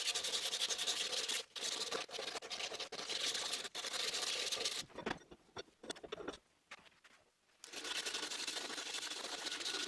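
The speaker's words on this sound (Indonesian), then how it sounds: "Kemudian lakukan penghalusan juga dengan amplas." Sandpaper rubs back and forth over a wooden handle in quick rasping strokes, close and dry. The strokes pause briefly in the middle and then resume.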